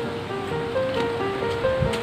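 Electric fans left running in a house give a steady broadband whoosh with a faint motor hum, continuous and fairly close, without talking.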